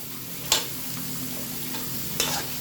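Mushrooms stir-fried with long beans sizzle steadily in a hot pan, broken by two sharp scrapes of a spatula a couple of seconds apart, close and without talk.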